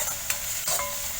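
Onion, capsicum, grated carrot and green peas sautéing in a pan, giving a bright, continuous sizzle broken by a couple of quick stirring strokes.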